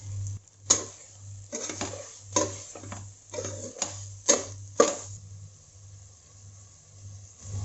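A utensil stirring salt through mutton stew masala in a pan: irregular close scraping and clinking strokes with sharp knocks against the pan over a low steady hum, with no voices.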